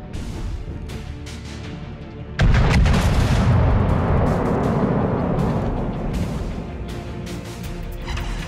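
Naval gunfire from the Russian tier 5 battleship Izmail in World of Warships Legends: a sudden, loud, heavy boom followed by a long rolling roar that slowly fades.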